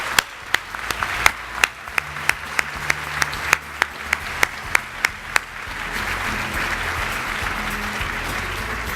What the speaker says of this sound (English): Let's give these regional finalists a round of applause.